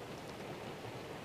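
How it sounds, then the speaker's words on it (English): Steady hiss of rain beginning to fall in a forest during a blacktail deer hunt on Vancouver Island, a continuous broadband wash with no distinct drops or voices. "Now it's starting to rain."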